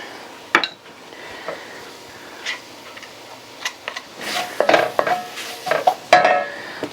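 A spoon scrapes and clinks against a metal pot as tomato paste goes in for a beef-stock truck stop chili, with scattered sharp metallic taps and scrapes building toward the end.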